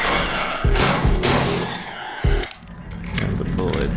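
Enemies fire guns in the video game You Will Die Here Tonight: several heavy, close gunshot bursts with metallic clinks crack out at irregular intervals amid game noise and occasional talk.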